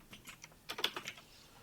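Keystrokes on a computer keyboard, a quiet, close run of about a dozen light clicks, spaced at first and then bunched in a quick burst before trailing off.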